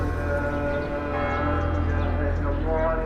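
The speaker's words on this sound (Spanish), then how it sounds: "solo el sonido de las campanas y de los almohacines revelan al viajero las numerosas iglesias y mezquitas" Church bells ring across Jerusalem in a steady, continuous peal of overlapping sustained tones at moderate loudness, with no talk over them.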